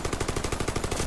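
Rapid automatic gunfire in a video game, a fast even stream of about a dozen loud shots in just over a second, heard close with no voices.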